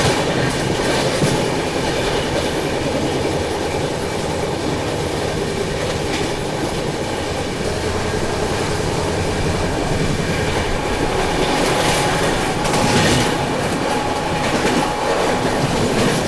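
The Tirupati–Jammu Tawi Hamsafar Express runs through Ramagundam station with a steady, loud roar of wheels and rhythmic clickety-clack on the rails throughout, with no voices.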